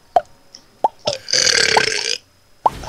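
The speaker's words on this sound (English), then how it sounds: "Man, that burp stinks." A loud, rasping burp of under a second stands out close-up, framed by sharp clicks and taps during a League of Legends gaming session.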